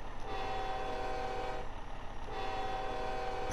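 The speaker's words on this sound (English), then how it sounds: "It sounds like a freight train." A truck horn in the Snowrunner video game sounds like a freight train horn, two sustained chord blasts split by a short break, loud and alone.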